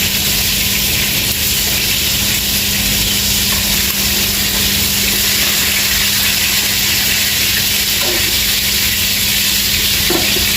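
Browned fish frying in a pan sizzles steadily and loudly, a dense continuous hiss with a couple of faint clinks, no talking over it.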